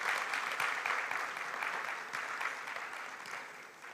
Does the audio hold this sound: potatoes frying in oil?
no